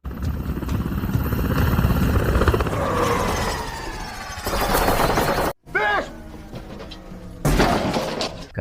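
A helicopter losing power and crashing in a film: rotor roar churns amid chaotic bangs and heavy thuds, then cuts out abruptly before noisy clatter resumes, with voices shouting through the din.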